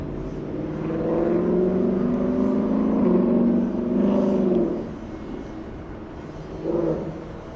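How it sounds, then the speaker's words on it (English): A Ford Mustang GT, the standard GT rather than a GT350 or GT500, revs loudly near LAX airport with a sustained roar. The roar eases off midway, then gives one shorter burst near the end. "Mustang GT. Waking up the neighbors."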